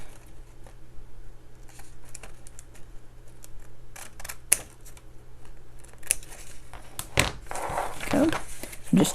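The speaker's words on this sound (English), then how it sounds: "I'm going to cut these apart in the center only" Scissors cutting paper for a handmade mini journal: a series of soft, close snips and paper rustles, with louder crisp cutting and handling toward the end over a low steady background hum.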